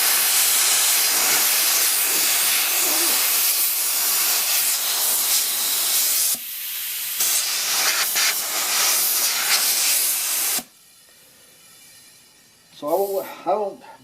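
Compressed air hissing loudly and steadily while blowing off freshly cleaned wheel studs on a 1973 Eagle bus, a long continuous blast with a brief change in pitch midway, ending in quiet with a few short sounds at the close.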